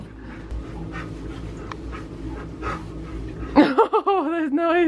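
Dogs being towel-dried indoors after getting wet, one panting and letting out happy whimpering, squeaky vocal noises, first a steady rustling and breathing, then a near burst of high, wavering whines and yelps.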